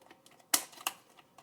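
The tires of a Playmobil DeLorean toy car fold down with two small plastic clicks in quick succession, close and quiet, amid faint handling ticks.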